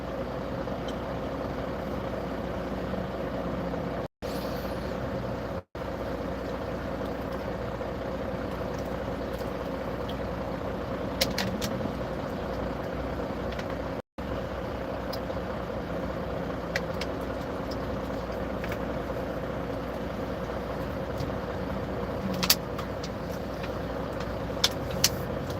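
Road traffic on a drive from Kentucky to Ohio makes a continuous rumble of tires and engines from inside a moving vehicle, with a few faint clicks and brief dropouts.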